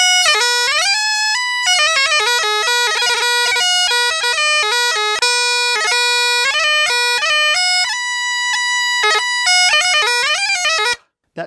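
Bagpipe pipe chanter fitted with an adjusted reed plays a bright, loud melody of steady, clear tones with quick grace-note ornaments, alone and continuous before stopping abruptly at the end.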